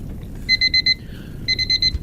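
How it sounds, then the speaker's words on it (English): An alarm clock beeps in two bursts of four quick, bright tones separated by a short pause, clear and close over faint background noise. "that was just my alarm clock"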